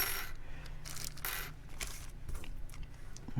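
Small metal and plastic parts for a GoPro 8 vlog case are tipped out of a zip bag, rattling and clinking onto a surface in a quick scattered clatter, close and moderately quiet.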